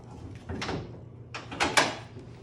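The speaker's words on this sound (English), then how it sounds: "So as for the motor, we will open the hood." Hood of a 1987 Ford Ranger opened by hand, giving a couple of short metallic clunks and creaks close by, with a louder latch-and-hinge burst toward the end and no talk.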